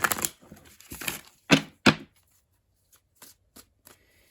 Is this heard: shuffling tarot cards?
yes